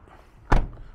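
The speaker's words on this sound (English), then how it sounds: "Open the door, shut the door" A work van's door shutting, one close, solid thump with a brief broadband burst that fades quickly into a quiet background.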